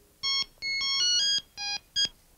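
A telephone ringtone rings in several short electronic bursts, clear and close with no talk over it, signaling a call from a hospital.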